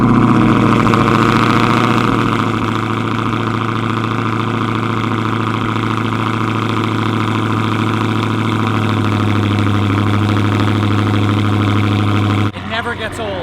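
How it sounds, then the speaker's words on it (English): Dodge Hellcat V8 idling after a cold start, a loud steady burbling drone that holds evenly, then drops abruptly near the end as a short rattle sounds; no voices. "Cold start the Hellcat"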